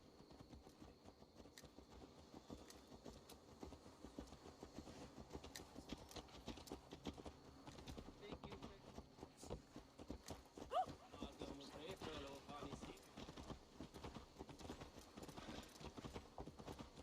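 A horse's hooves clip-clop at a steady walking rhythm in a video game, faint and continuous beneath ongoing spoken dialogue.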